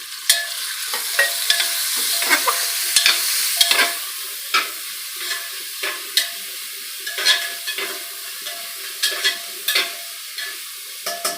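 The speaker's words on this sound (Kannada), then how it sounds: "ಕರಿಬೇವನ ಹೀಗೆ ಹಾಕ್ತಾ ಇದ್ದೀನಿ" Curry leaves crackle in hot oil for Karnataka-style aloo bath, with sharp popping bursts and spattering over a bright sizzle, loud and close, no speech.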